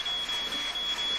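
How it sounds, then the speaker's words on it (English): A household smoke detector sounds indoors after a firework goes off in the house, holding a steady, piercing high-pitched tone over a wash of hiss. "Smoke detector!"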